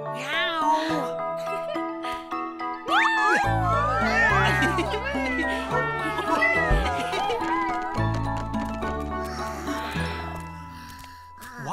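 Cartoon cats meowing in a series of bending, sing-song calls over a bright musical backing with chimes, close and lively.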